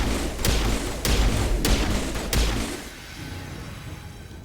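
Four heavy sniper rifle shots boom in Mass Effect, spaced roughly half a second apart, loud and close, each with a sharp crack and low rumble before fading into quieter game ambience.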